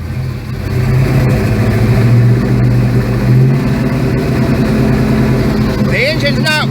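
A muscle car engine capable of over 8,000 RPM, not yet warmed up, running steadily in Dalton, Georgia. It makes a loud, continuous low rumble close by, and a voice cuts in briefly near the end.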